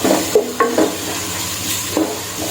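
Crushed ginger, garlic and green chili sautéing in a pan for a country chicken biryani, a soft background sizzle with a few distinct scraping stirs of a spatula against the pan.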